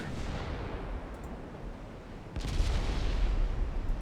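Warship guns in the naval game Ultimate Admiral Dreadnoughts, a dense rumbling barrage that swells into heavier, louder booming partway through, continuous and close without pauses.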